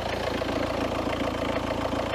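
A cold car engine idles steadily, giving a low, even rumble with a fast regular pulse and mechanical clatter on top, close and continuous with no talking.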